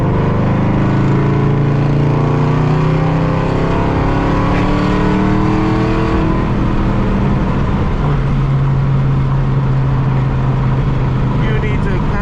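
A 500 hp Dodge Hellcat engine roaring loudly up close, with sustained revving whose pitch sweeps up and down across gear changes, heard from inside the car while someone talks over it.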